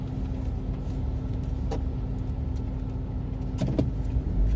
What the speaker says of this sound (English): The rain hitting the car, and the wind and the road noise.